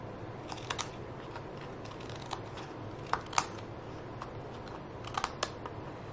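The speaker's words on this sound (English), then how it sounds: "we're going to take our paper snips and go along the edge of the cardstock and just trim" Paper snips trimming along the edge of cardstock while making a handmade carrot card, giving a handful of short, crisp snips spread unevenly over a quiet background.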